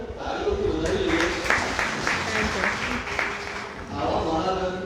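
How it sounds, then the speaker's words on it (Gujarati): An audience at a Gujarati book-discussion event applauds a young speaker. Dense, steady clapping from many hands lasts about five seconds at a moderate, even level. "ફરી એકવાર આપણે એમને તાળીઓથી વધાવી લઈએ"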